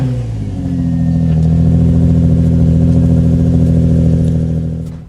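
A Nissan G35 with a VQ engine and an Invidia exhaust starts cold: a short crank catches within the first half second, then settles into a loud, steady, rumbling idle close by that runs to the end.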